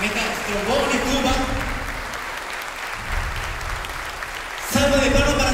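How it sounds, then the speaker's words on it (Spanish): An audience applauds the brass section (trombones and tuba) of an orchestra after the William Tell Overture, with steady, dense clapping throughout and a louder surge of applause near the end. "Salva de palmas para los metales, por favor, metales."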